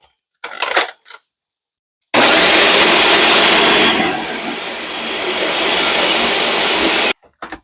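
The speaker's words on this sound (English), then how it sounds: "Egusi already in the blender, we're going to go ahead and blend it." A blender grinding egusi seeds roars loudly for about five seconds, a steady whirring grind that dips briefly in pitch midway, then cuts off abruptly.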